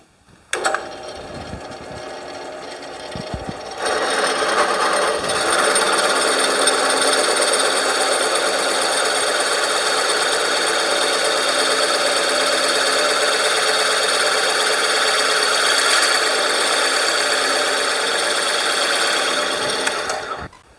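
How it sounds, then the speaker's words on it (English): A steady mechanical whine and rumble of a drill press running, with a brief start-up, then a continuous droning hum as it bores holes into wood for rustic candle holders, close and loud. "We'll take it to the drill press and drill them out."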